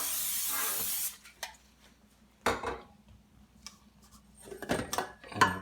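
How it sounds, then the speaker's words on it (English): A short hissing spray burst opens the clip, followed by quiet kitchen clatter and a few light knocks of cookware. "A little cooking spray."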